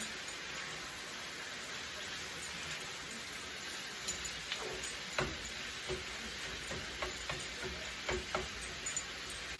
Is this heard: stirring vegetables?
yes